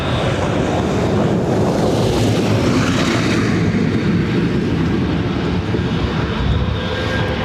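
Lufthansa airliner departing Dublin Airport for Munich, a loud, steady broadband engine roar that holds throughout and gradually thins in its upper hiss.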